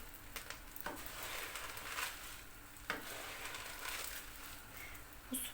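A wooden spatula stirs butter noodles in a hot pan over a soft, continuous sizzle, with a few sharp scrapes and taps against the pan.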